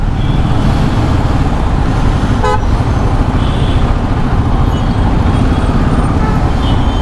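Royal Enfield Himalayan 450 motorcycle ridden through city traffic, with steady, loud engine and road rumble, constant wind noise and a brief horn toot from nearby traffic.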